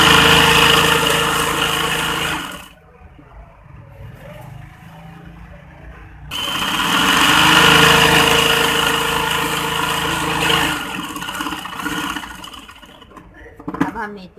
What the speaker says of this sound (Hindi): अब हम दूसरी साइड की सिलाई लगा रहे हैं।